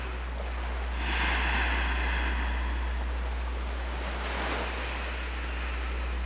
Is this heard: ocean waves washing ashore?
yes